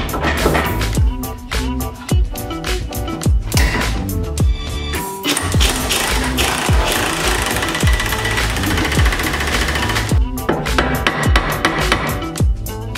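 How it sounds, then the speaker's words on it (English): Pneumatic impact tools tightening axle bolts on an NB Mazda Miata in a home garage, loud close rattling bursts of hammering that start and stop repeatedly with short pauses between runs. "tighten everything down using air tools"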